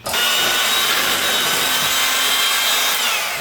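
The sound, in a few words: electric hand mixer whisking mashed potatoes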